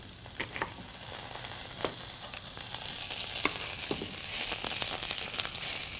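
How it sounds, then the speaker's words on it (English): A thick-cut pork chop, about half an inch, sears in a hot frying pan with a steady close sizzle and occasional sharp pops and crackles, no voices over it. "I'm searing it enough just to get it a nice golden brown on the one side"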